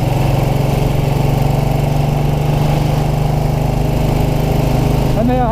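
A 1929 Ariel motorcycle engine runs at a steady, loud, close throb while the bike is ridden along country lanes, and someone talks over the engine throughout.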